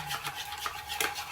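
A tan-removal face pack mixture being stirred in a small bowl, giving soft, repeated scraping and swishing strokes in a steady rhythm, close up, with no voices.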